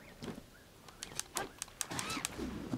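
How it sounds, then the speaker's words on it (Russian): A bird calls in the video game The Legend of Zelda: Breath of the Wild, with a few short, moderately loud chirps and coos scattered through the clip amid game sounds. "О, это что? А, птица."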